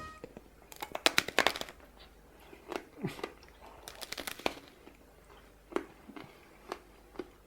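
Teeth crunch into a crunchy, sugar-coated black candy apple, giving a series of sharp, close crackling bites and chews, fairly quiet, with small crisp snaps spread over several seconds.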